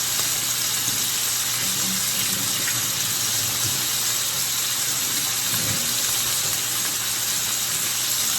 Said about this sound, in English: just bring the plate over here and wash it out with some dish soap.